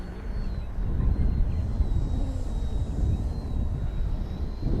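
An XFly Sirius 80mm electric ducted-fan RC model jet flies past outdoors, its steady high-pitched whine holding over wind rumble and rising and falling slightly at a moderate distance.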